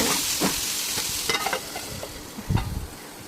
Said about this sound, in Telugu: దొండకాయలు పచ్చివాసన పోయేంత వరకు బాగా డీప్గా ఫ్రై చేసుకోవాలి.